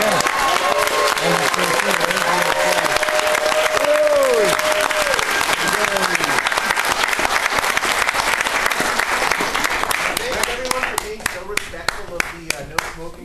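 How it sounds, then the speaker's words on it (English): Loud sustained applause from an audience at a cannabis convention, dense clapping filling the room before thinning into scattered claps, with voices calling out over it. "Have a round of applause and a very special thank you to Andrew."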